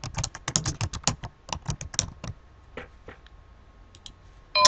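A computer keyboard clatters with a quick run of close, crisp keystrokes as a short chat greeting is typed, then a few scattered taps before a brief louder burst at the end.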